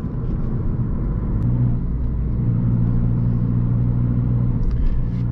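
A Peugeot 208 1.4 HDi diesel hatchback on the road gives a loud, steady cabin rumble of engine and tyres while it drives and pulls out to overtake, with no talking.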